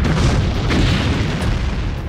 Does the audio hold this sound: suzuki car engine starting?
no